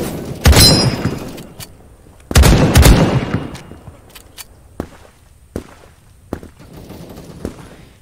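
Semi-auto gun in the browser shooter Krunker: two loud single shots a couple of seconds apart, followed by a run of sharper, quieter clicks and pops.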